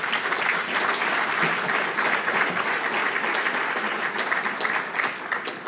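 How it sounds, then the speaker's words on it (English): A banquet crowd at a Labour Day dinner claps in a sustained, dense wash of applause that holds steady and strong for several seconds with no speech over it. "So can we give them a round of applause?"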